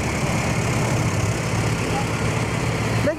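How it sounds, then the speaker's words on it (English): A tractor engine idles and chugs steadily at a parade while kids drive it, a low continuous rumble close by with no talk over it. "Kids driving the tractor."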